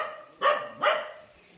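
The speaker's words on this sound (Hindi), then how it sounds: "इतना चिल्ला रहे कि कुछ बात नहीं कर पा रहे लोगों के लिए।" Dogs bark twice in quick succession near a warehouse where a vehicle is being unloaded. The barks are moderately loud and slightly distant, with no talk in between.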